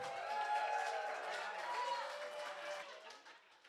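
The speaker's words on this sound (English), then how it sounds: "round of applause one more time for the best man, Will." Wedding guests at a reception at Casi Cielo in Camarillo, California applaud the best man after his toast, a soft, steady patter of clapping mixed with murmuring and cheers that fades toward the end.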